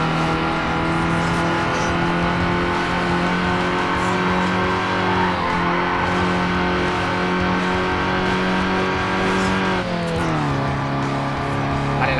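Mitsubishi Lancer in Need for Speed Underground 2, engine roaring loud and sustained as it pulls hard under acceleration, holding a high rev before a shift drops the pitch near the end.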